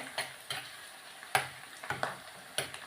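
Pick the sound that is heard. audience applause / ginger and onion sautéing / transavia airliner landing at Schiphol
ginger and onion sautéing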